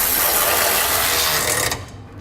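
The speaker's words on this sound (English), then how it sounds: "I can come back using a 13mm socket and snug up all my bolts." A ratchet with a 13mm socket snugging bolts on a CURT Class 3 trailer hitch on a 2015 Chevrolet Colorado, giving a continuous fast clicking whir close up that stops near the end.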